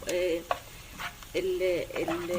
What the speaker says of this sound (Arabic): دلوقتي هنزل بقى بمعلقه من الثوم